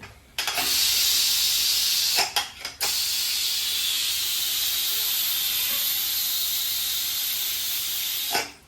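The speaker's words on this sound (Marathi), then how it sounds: "वाफ जाऊन देतो." A pressure cooker used for boiling potatoes vents steam in a loud, continuous hiss lasting several seconds, briefly interrupted by short gaps and clicks, close to the microphone with no talk.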